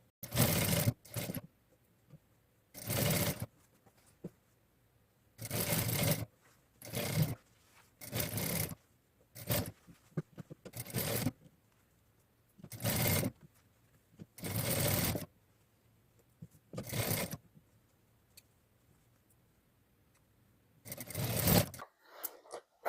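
A sewing machine stitches a French seam on rayon shorts, running in short repeated bursts of rapid mechanical whirring separated by brief pauses, loud and close with no talk.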